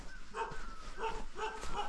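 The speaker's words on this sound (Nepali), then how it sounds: "कुकुरहरूले भोक्दैछ" Dogs barking in a village at the river valley below the hills in rural Nepal, with rhythmic repeated barks and yips at moderate distance over steady outdoor ambience.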